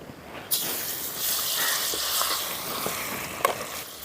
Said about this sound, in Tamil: நான் அரைச்சி வச்சு பூண்டு போடுறேன்